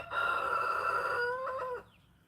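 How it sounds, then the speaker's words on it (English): A Brahma rooster crows nearby on a farm among Brahma chickens, one long loud call that trails off and ends, with quieter fowl sounds after. "The Brahmas are pretty well-mannered chickens, aren't they?"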